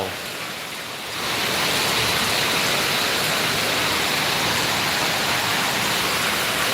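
Heavy rain pours down with strong wind, starting softer then surging after a second into a dense, loud, steady roar with no voices.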